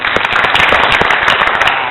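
Loud, dense applause from a studio audience at an Indonesian TV debate show between legislative candidates, steady crackling claps filling the whole stretch without pause.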